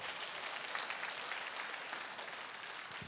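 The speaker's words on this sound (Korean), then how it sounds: "박수 한번 쳐주시기 바랍니다." Church congregation applauding during a Sunday worship service: dense, even clapping from many hands filling the room, steady and fairly soft, with no voices standing out.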